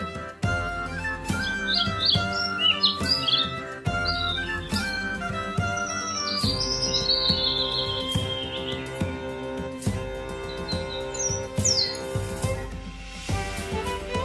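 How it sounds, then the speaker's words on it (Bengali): Bright dove chirps and tweets flutter in short bursts over a steady musical backing, fairly clear, with no talking. "ঘুঘু পাখি ডাকছে গাছে"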